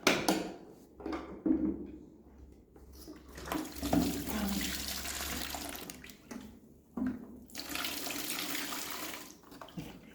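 Dirty water is emptied from the waste container of a Hoover CleanJet CJ930T carpet washer, giving steady pouring and splashing with brief pauses and a few knocks, close up and with no talking.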